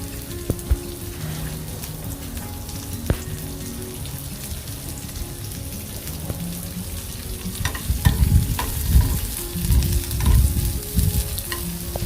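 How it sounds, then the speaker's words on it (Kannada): Onions frying in a pan for a capsicum fry, with steady broadband sizzling and frequent stirring scrapes, the frying growing louder and busier toward the end; no voices. "ಈರುಳ್ಳಿ ಕೂಡ ಚೆನ್ನಾಗಿ ಫ್ರೈ ಆಗಬೇಕು"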